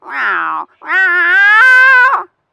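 A man imitates a single cat meowing with his voice: a short mew, then a longer, rising and wavering meow, loud and close, alone with no other sound.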